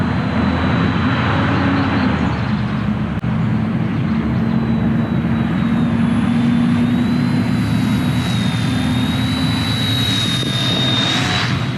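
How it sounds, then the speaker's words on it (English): An Eachine E110 toy-grade helicopter spy drone flies nearby, with a continuous loud, high whirring rotor and motor whine that shifts slightly in pitch as it hovers and moves, steady throughout. "obviously this is a toy grade drone, toy price."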